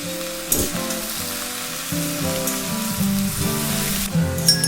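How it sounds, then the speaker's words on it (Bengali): Kharkol (taro) leaves frying in oil in a pan, a loud, close, continuous sizzle and crackle with a few sharper spits along the way, no voices. "এরপর তেল দিয়ে খারকোল পাতাগুলো দিয়ে দিচ্ছি।"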